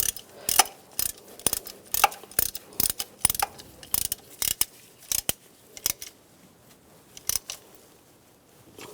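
A ratchet wrench tightens bolts on the power steering pump of a 2006-2009 Mercedes-Benz E350. Crisp, close ratcheting clicks come in quick repeated bursts with short pauses between strokes, and no one talks.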